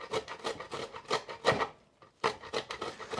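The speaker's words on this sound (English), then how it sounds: "The key is you freeze it and then you grate it." Frozen Spanish chorizo scraped against a grater in a kitchen, a close dry rasping in a quick run of strokes, a brief pause, then more strokes.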